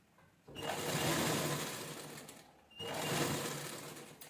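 A sewing machine stitches lace onto a cloth seat cushion in two close, loud bursts of rapid mechanical whirring, with a brief pause between runs and no speech.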